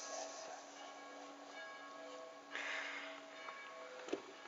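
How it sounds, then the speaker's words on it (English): Church bells ring faintly in the distance as a sustained, resonant hum with lingering overtones, joined by a brighter swell partway through and a small nearby knock near the end. "The church bells are distracting me back to nature."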